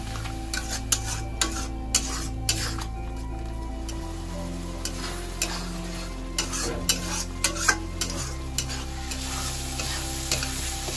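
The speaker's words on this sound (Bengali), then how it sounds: "এবার আমি মশলাটাকে ভালো করে কষাবো।" Spice paste for a Bengali potato prawn curry, moistened with a little water and a pinch of sugar, sizzles steadily in a pan while a spatula scrapes and stirs it in frequent strokes, close and without talk.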